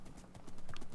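Horse hooves clip-clopping in the video game Minecraft, a quick series of rhythmic hoof steps that grows louder and closer in the second half, with no talk over it.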